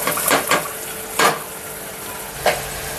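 Chopped carrot, beans and radish sizzle and fry in a pan with onion, with a steady hiss broken by a few short scraping stirs of a spoon against the pan.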